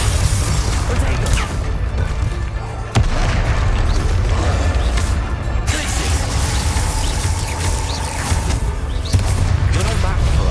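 Spell explosions from Bombarda and Confringo in Hogwarts Legacy: dense booming blasts and bursts over a constant loud rumble of battle, with a sharp hit near three seconds and another near nine.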